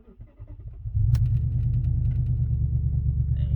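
A Volkswagen engine cranks briefly and catches, then settles into a steady, loud low rumbling idle that carries on to the end.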